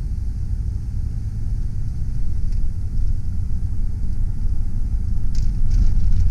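Steady low engine rumble and road noise fill the cabin of a 1992 Ford E150 Econoline van as it drives, loud and continuous with a few faint rattles near the end.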